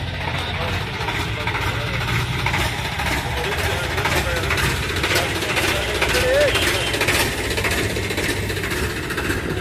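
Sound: Swaraj 744 FE tractor engine idling

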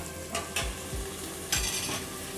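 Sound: tomatoes frying with vegetables in a pan

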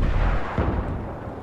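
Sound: rocket fired and exploding in a video game

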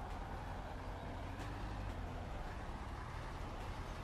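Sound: Tatra truck engine straining and stalling

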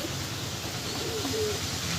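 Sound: Madrasi pigeons cooing

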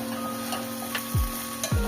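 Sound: spices frying in a pan

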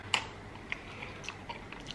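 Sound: chewing potato with sour cream

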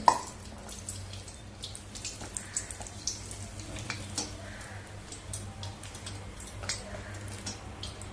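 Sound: khasta pattis frying in oil

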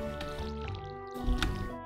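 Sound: watering crops in Stardew Valley video game

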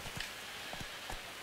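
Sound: rain in the video game The Witcher 3: Wild Hunt

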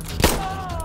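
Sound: gunshot in Insurgency Sandstorm video game

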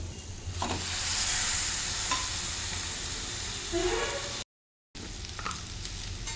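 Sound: tomatoes, carrot, cabbage and pasta frying and stirred in pan

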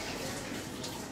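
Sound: water running while washing mouth and nose during ablution

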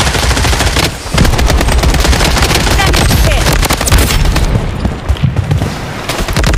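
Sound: gunfire in Blood Strike video game

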